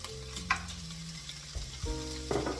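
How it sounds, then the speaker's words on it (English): Pancetta frying in olive oil for minestrone soup, a quiet steady sizzle in the pan with a few soft clinks and stirring knocks of a utensil, no voices. "I'm just going to fry that for a few minutes"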